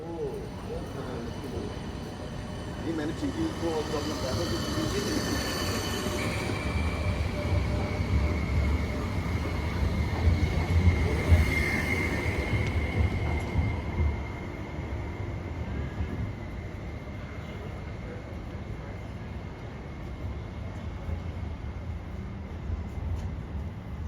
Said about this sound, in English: This is also when the tram was departing.